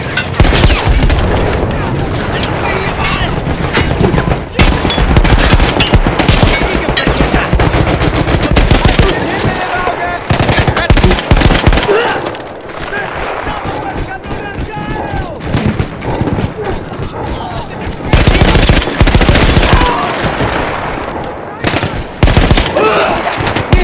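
Machine gun fire in the World War I video game Battlefield 1, long sustained bursts of rapid loud shots with brief pauses, clamorous battlefield noise and voices mixed underneath.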